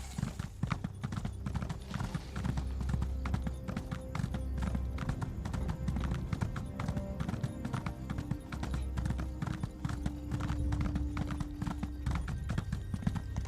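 Rapid, steady hoofbeats of a galloping horse in Elder Scrolls Online run throughout, a loud rhythmic clip-clop with a brief whinny and a low musical drone underneath.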